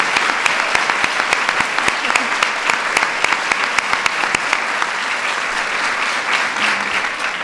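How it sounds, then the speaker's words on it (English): An audience gives a round of applause for women military veterans at a formal event, loud, dense clapping with crisp individual claps, steady for several seconds before softening slightly. "So let's give them both another round of applause."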